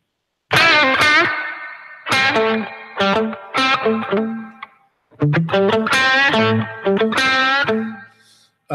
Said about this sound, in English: putting the reverb before the amp on the spring